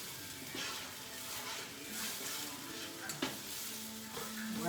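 Turkey chili cooking in a pot gives a steady, fairly soft sizzle and bubble, with a few brief clinks and scrapes. No one speaks.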